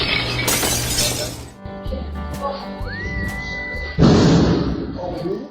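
A man crashes into a bulletproof glass door twice, each impact a loud, sharp burst of glassy noise, the first near the start and the second later, with quieter thumps and a brief whistle between.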